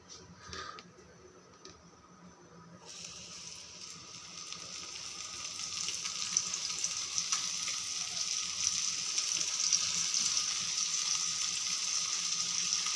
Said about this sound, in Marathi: तेल देखील आपलं सकळत तापलेलं आहे तर मग आपण आता त्यामध्ये बोंबील सोडून घेऊयात